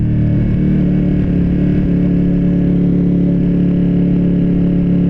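Ducati Panigale V2 motorcycle engine running steadily while being ridden on the street, a loud, close, continuous low rumble with a slight dip in pitch early on, no voices over it.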